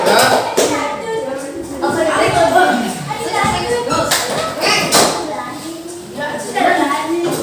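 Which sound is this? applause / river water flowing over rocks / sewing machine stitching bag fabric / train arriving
applause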